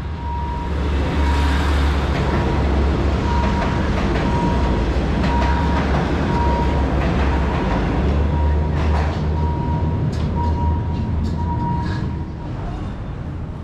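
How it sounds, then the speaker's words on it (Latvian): A train rumbles past an outdoor eatery beside the tracks in Bangkok, loud and close with a steady low roar, rhythmic wheel clatter and squeals, fading slightly near the end. "te vilciens visu laiku brauc garām"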